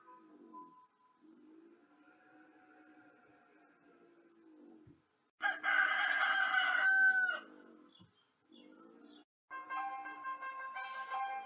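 A rooster crows once, loud and drawn out for about two seconds, set within a children's animal carnival fable. Calm narration comes before the crow, and another bright, tonal sound follows it.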